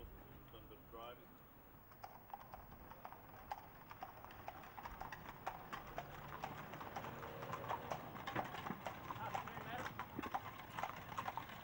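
Horse hooves clip-clop at a steady walk on a hard surface, starting faint and growing louder as the horse nears, with people talking over them.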